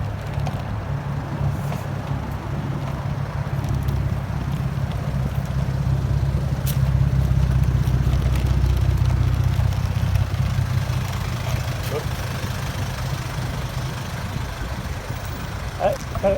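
Cars idle and rumble in city street traffic, a steady low engine drone that swells slightly midway and carries on throughout, with no distinct passing vehicle standing out.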